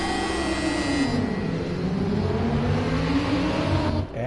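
Race cars launching from the start at the Nürburgring GP circuit in the racing game Project Cars, a loud blend of engines revving and accelerating together, with rising and falling tones sweeping past.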